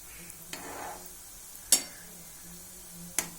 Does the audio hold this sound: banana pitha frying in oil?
yes